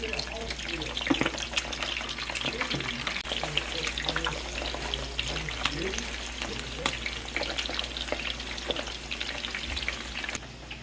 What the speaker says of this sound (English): There's a piece of that rabbit right there. I'll fry it up.